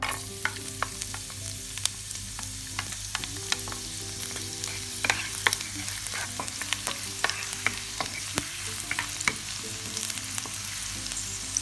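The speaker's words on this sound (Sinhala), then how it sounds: "දැන් මම ඉස්සෙල්ලාම සුදු ලුණු ටික දා ගන්නවා" Garlic sizzles steadily in a hot pan as part of making rolls and samosas, a continuous soft frying hiss broken by scattered pops and the scrape of stirring, with no voices.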